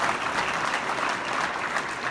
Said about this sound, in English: let's give both of them a round of applause